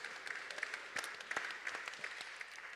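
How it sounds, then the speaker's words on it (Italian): Steady applause from a conference audience at a Women's Forum session in Rome, a continuous patter of many clapping hands heard from a distance, fairly quiet and without any voices over it. "On peut l'applaudir."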